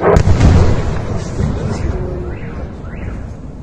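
Missile strike explosions from a strike on an S-400 air defence complex in Crimea, a loud blast boom at the start followed by a long rumbling roll that slowly fades, heard from a distance outdoors.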